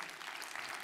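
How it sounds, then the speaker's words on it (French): Applause from an audience at a talk welcoming a speaker, vice-president of a French trade union confederation; a brief, steady wash of clapping at moderate level, fairly distant. "Joseph Touvenel, que je vous demande d'applaudir"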